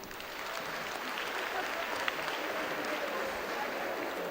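A studio audience at an Azerbaijani television talk show claps in sustained applause, a dense, steady roar of many hands that holds evenly throughout.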